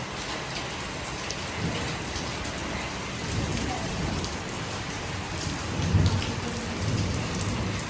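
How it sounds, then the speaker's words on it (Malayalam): Heavy rain pours steadily on a surface, with a low rumble of thunder swelling near the end, continuous and enveloping. "അപ്പോഴത്തേനും നല്ല ഇടിയും മഴയും വന്നു"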